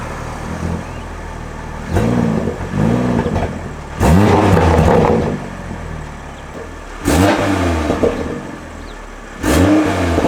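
A Toyota A91 Supra engine revs up in several bursts while being checked for an exhaust leak, roaring loudly then dropping back to idle, with short pauses between each rev.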